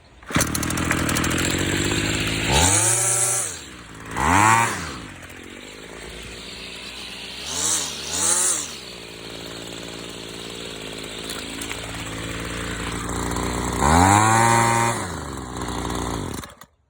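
A Homelite Mighty Lite 26SS two-stroke string trimmer engine, freshly carb-adjusted, revving in loud repeated bursts that rise and fall, then dropping back to a rough, uneven idle between the throttle blips.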